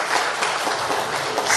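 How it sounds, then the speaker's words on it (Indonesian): Steady, fairly close applause from an audience at a public speaking training session, a dense wash of clapping that runs without pause for the whole brief moment. "Tepuk tangan dong buat Bang Zul."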